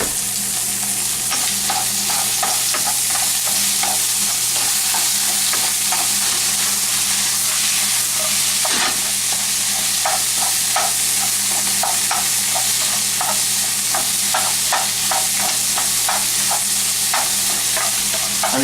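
Sausage frying in a pan, with a steady loud sizzle throughout and a utensil stirring it in frequent scraping, clicking strokes, close up with no talking.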